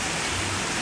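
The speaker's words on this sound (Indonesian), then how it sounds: "Hujan." Steady, dense rain hisses loudly and continuously, a close wash of falling drops with no voices over it.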